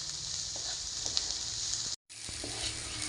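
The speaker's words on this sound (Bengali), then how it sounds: "পেঁয়াজ আধা করে ভেজে নিয়েছি" Onions frying in hot oil in a pan, a steady close sizzle that runs throughout with a few soft stirring clicks, broken by a short gap of silence partway through.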